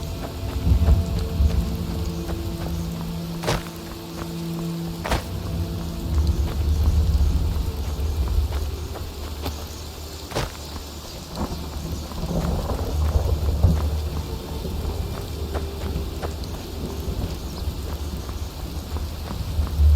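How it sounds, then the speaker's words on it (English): Heavy rain pours steadily in the fantasy game Skyrim, with sharp cracks of thunder at intervals and rolling rumbles underneath, loud and continuous with no speech. "It's raining."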